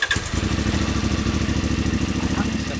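A 2024 CF Moto adventure motorcycle, 450 MT or 800 MT Explore, idles steadily at close range with an even, rapid pulsing throb, briefly blipped at the very start, alone without talk.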